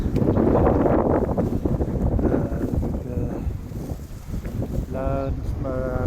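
Wind at the port of Canet-en-Roussillon, gusty broadband buffeting against the microphone, loudest at the start and easing slightly, with a voice speaking briefly near the end.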